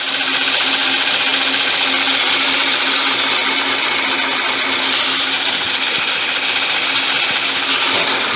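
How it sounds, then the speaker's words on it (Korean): Loud, steady mechanical whir of a Hyundai Equus engine running up close, recorded after coolant, water pump, ignition coil and spark plug replacement with an engine warning light on, unchanging for the whole stretch. "여러분 엔진 소리 다시 한번 들려드리겠습니다."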